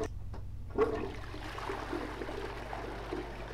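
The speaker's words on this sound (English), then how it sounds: "I can flush." A toilet flushes in a horror video game, starting with a click of the handle and then a steady rush of water that continues evenly to the end with no talk over it.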